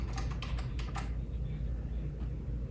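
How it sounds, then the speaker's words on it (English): Computer keyboard clatters in a quick burst of several keystrokes at the start, then gives way to a dull, steady room hum with no further typing. "You can hit the tab button on your keyboard."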